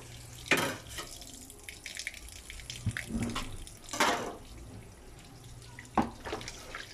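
Tap water runs and splashes in a kitchen sink while a raw chicken is washed, with uneven gushes and clatters of handling, fairly close and with no talking.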